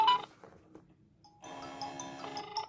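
Phone call dialing through a WS-X9 Ultra smartwatch: a short ringtone-like melodic burst, a pause with a few faint tones, then a sustained tonal ringing pattern playing clearly to the end.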